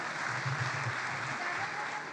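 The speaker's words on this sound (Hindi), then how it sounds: "ज़ोरदार तालियों से उनका इस्तकबाल किया" Warm, sustained applause from the audience at an Urdu mushaira greeting a poet, many hands clapping evenly and fairly close, with a faint murmur of voices underneath.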